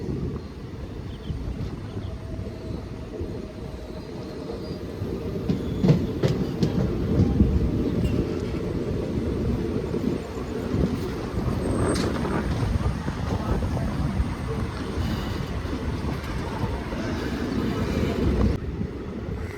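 The Vanchinad Express pulls into platform two at Kottayam station, a steady loud rumble of wheels and carriages with faint metallic squeals near the end, heard from on board.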